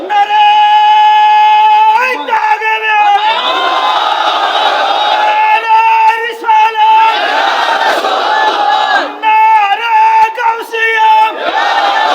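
A large crowd at an Islamic mahfil in Akhaura roars the takbir in loud, swelling shouts that alternate with a preacher's amplified voice leading them.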